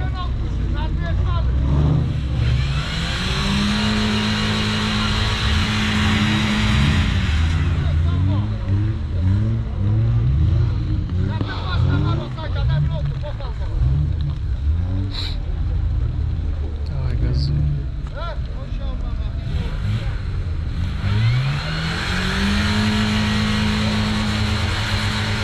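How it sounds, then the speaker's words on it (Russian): Off-road vehicle engine revving repeatedly while trying to climb out of a pit, loud surging and falling revs over a long stretch, voices calling out among the noise. "Давай, газуй."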